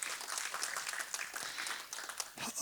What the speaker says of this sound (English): Let's give a round of applause for Marcia.